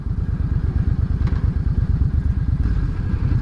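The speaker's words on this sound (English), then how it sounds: "I do like how the V-twins sound. Got that rumble and that deep tone to it." Suzuki Intruder V800 V-twin motorcycle engine idling or riding with a loud, steady, deep pulsing rumble and rapid rhythmic low thumps, close up, with no voices.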